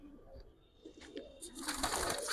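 Giribaz pigeons coo softly close by in short, low, rolling calls that swell near the end, with some rustling around them.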